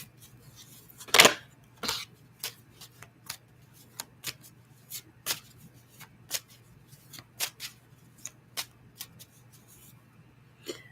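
A deck of tarot cards is shuffled by hand up close, giving a quiet, irregular series of crisp riffles and snaps with brief pauses between them over several seconds.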